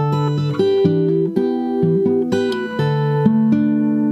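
Guitar plays the second section of a song's intro at full speed, a plucked hook over a low E bass note, clear bright notes ringing in a steady melodic pattern, alone without talk.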